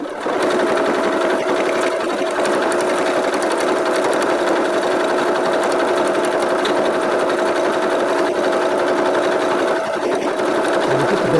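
Sewing machine stitching a squeegee pad holder, its rapid needle chatter running steadily and close for about eleven seconds, with a quick stop near the end.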